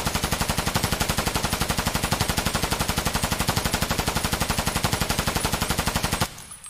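A rifle fires full-auto with US ammo in Escape from Tarkov, a loud, evenly spaced stream of shots with the trigger held down for about six seconds before it stops abruptly.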